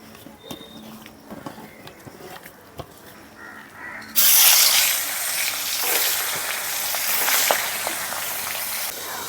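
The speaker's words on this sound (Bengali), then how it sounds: "এখন লবণ আর হলুদ দিয়ে মেখে মাছগুলো ভেজে নেব" Ghaura fish, rubbed with turmeric and salt, drops into hot oil partway through and sets off a sudden loud, steady sizzle and crackle that continues close up to the end.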